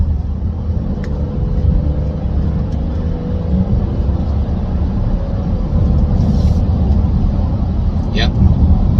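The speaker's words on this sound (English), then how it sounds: "The car has very good acceleration, 0 to 60 in approximately 6 seconds." A 2013 BMW X5 35i xDrive E70 SUV accelerates hard, heard from inside the cabin as a steady, loud low engine and road rumble that builds slightly over several seconds.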